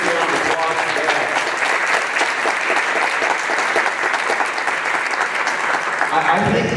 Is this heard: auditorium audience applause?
yes